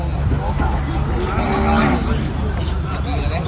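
Cattle moo at a cattle and buffalo market, a drawn-out low bellow rising from steady crowd noise and murmured voices, fairly close.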